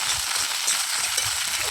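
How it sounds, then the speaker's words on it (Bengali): Potatoes and okra fry in a pan while being stirred, giving a steady, close, continuous sizzle and crackle with no voices. "দিয়ে যতক্ষণ ভাজা ভাজা না হয় ততক্ষণ নাড়তে থাকবো"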